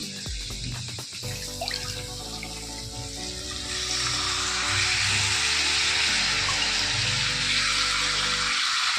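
Tap water runs steadily into a kitchen sink while leafy greens are washed, a broad continuous rush that swells louder midway, with faint clatter of handling throughout.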